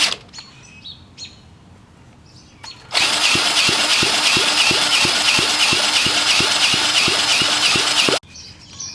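A 1970 Honda CT70 engine cranks over with a fast, steady mechanical whir for several seconds, close and loud, after faint chirping sounds, then cuts off abruptly without catching.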